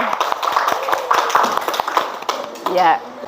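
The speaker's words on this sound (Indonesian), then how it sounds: "Tepuk tangan buat kawannya yang sudah tampil." Classroom clapping for a classmate who just performed, a short burst of many children's hands clapping close by, uneven and sharp, with voices talking over it.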